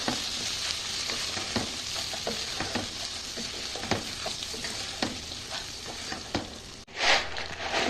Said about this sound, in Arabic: وبعدين هغسل الرز كويس واضيفه، وافضل اقلب كويس مع الرز